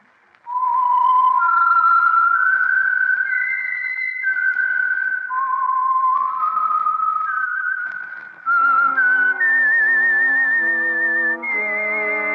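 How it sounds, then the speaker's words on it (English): A lone whistled melody, the theme that identifies the Signal Oil radio program The Whistler, rises and falls in clear sustained notes and is then joined by orchestral chords. "the signal to listen for is this whistle that identifies the Signal Oil program"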